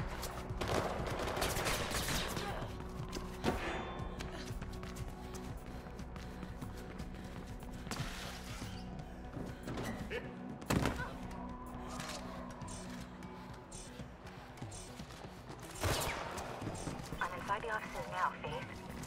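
Gunfire in a parkour video game, with repeated sharp bursts and shots at intervals over a constant busy game-noise bed, while a player's voice talks throughout.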